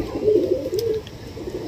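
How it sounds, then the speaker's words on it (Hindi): Soft, low pigeon coos murmur briefly, a gentle rolling call nearby with faint background noise. "ये देख सकते हैं आप सारे कबूतर"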